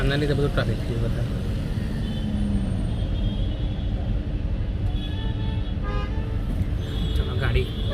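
Car horns toot repeatedly over a steady rumble of idling engines in a traffic jam on an Ahmedabad ring road, with people talking nearby throughout.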